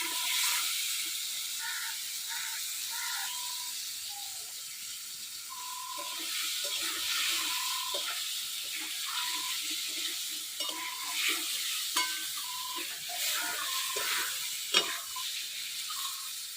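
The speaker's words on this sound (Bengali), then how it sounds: "বেগুনগুলো দিয়ে দেবো, বেগুনও একটু ভাজে নেবো।" Eggplant frying in hot oil in a village kitchen, a continuous close sizzle and hiss with occasional stirring scrapes and pops, steady throughout without speech.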